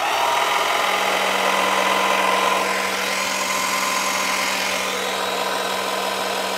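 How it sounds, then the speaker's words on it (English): A VEVOR electric car jack runs steadily as it lifts a car, giving a continuous motorized whir with a grinding, rubbing edge and a low steady hum. The sound stays loud and even throughout, with no talking. "you don't want to jack it up too high, just enough to where your tire clears the ground."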